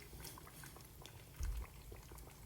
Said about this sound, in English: the orange peels, go into the water, the pot with water and salt, and I cook them.